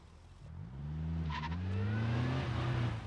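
A BMW convertible drives off, its engine rising in pitch as it accelerates away, a steady close revving sound building over a few seconds with no talk.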